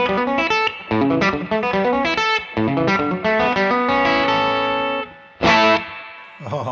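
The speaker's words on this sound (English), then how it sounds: "Super cool lick with a little bounce to it" An electric guitar, run through an effects unit with distortion, plays a bouncy lick in A with open-string hammer-ons, quick plucked notes in short phrases with brief gaps, loud and close with no speech.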